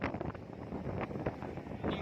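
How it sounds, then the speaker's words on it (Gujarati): Blustery storm wind roars against the microphone in rough, uneven gusts, swelling and easing with no voices, beside a thresher working on an isabgol (psyllium) crop. "સપાટા સપાટા વાવાઝોડાના સપાટા ભાઈ"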